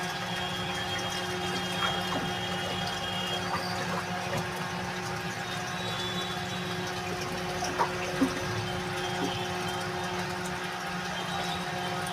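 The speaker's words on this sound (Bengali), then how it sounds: "পরিমাণ মতো জল দিয়ে দেব" Water is poured into a cooking pot for yakhni pulao, a continuous steady splashing rush with a faint hum beneath and a couple of small knocks, close and without speech.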